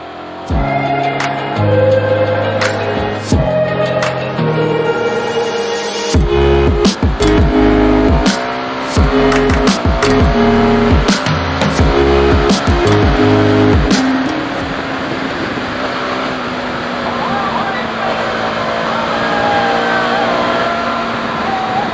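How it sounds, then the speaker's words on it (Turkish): A truck overtakes on the road, its heavy engine surging loud and close with bursts of rumble and wind roar for several seconds, then fading into steady road and wind noise. "Adam kamyonla bizi geçiyor ya."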